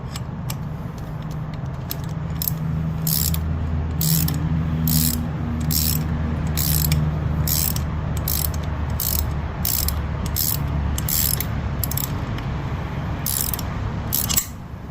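A ratchet with a long socket works on a motor mount bolt of a 2008 Toyota Avalon Limited, passenger side, giving a steady run of clicking pawl strokes close up for about fifteen seconds with no talk.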